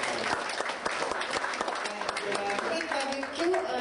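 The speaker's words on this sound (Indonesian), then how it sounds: "Tepuk tangan dong buat kita." A talk show studio audience applauds steadily throughout, with a host's voice speaking over the clapping.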